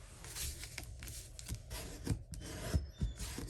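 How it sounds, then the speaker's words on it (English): A bone folder rubs and rasps back and forth along a scored fold line on a card base during card making, close and quiet, with soft repeated strokes and a few firmer presses. "Need to get my bone folder, burnish the score line on our card base"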